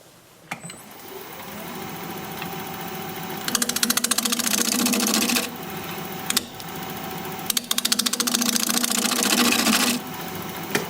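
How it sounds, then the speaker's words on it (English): A wood lathe spins at 850 RPM while a 5/8 inch bowl gouge cuts a bowl from junk wood, a loud, rough, chattering cut in several long passes, with the motor's lower hum between passes. "I'm going to be using a 5/8 inch bowl gouge. We're going to be turning at 850 RPM"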